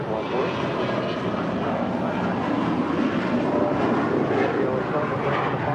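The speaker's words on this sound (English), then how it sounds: "That Global 6000 is departing to Greenville Spartanburg International Airport." A Bombardier Global 6000 business jet departs from runway 25 right at LAX, its engine roar a steady, loud broadband rush lasting throughout with no breaks.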